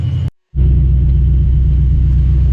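A car engine fitted with roller rockers idles after a brief cutout, a steady loud low rumble with a faint higher whine holding evenly throughout.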